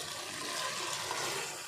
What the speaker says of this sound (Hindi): 2 गिलास पानी की शामिल कर दिए।